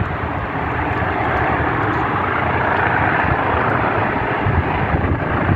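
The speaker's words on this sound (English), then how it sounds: "There's a fire engine over at the church and helicopters landing in the parking lot." A medical helicopter lands in a church parking lot while a fire engine waits nearby, its steady, loud rotor and engine roar filling the air continuously with no break.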